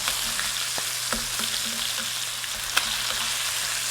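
Flipped salmon fillets sizzle continuously in a pan, a dense even crackle close by with a few light clinks of a utensil now and then.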